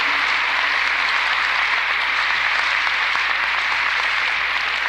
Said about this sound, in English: let's give all of those alder men and women a warm round of applause